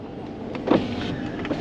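A power window motor on a RAM Rebel V8 pickup runs, giving a soft, steady whir for well over a second with a small bump partway through. Nearby cabin noise is faint and no one speaks.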